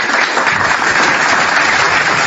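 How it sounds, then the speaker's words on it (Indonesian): An audience bursts into dense applause, a loud, steady wash of many clapping hands that fills the whole short stretch without pause. "Tepuk tangan untuk itu."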